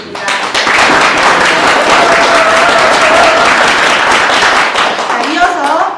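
Loud, sustained applause fills the room at a press conference for a county governor candidacy announcement, dense clapping holding steady before tapering at the end.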